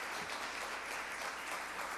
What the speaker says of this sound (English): Let's give our Congressman another round of applause.